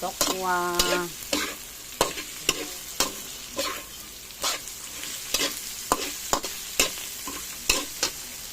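Tofu frying in a pan for adobong kangkong, with a soft sizzle underneath and regular, fairly loud knocks and scrapes of a utensil stirring it, heard up close, with a brief whistling tone near the start.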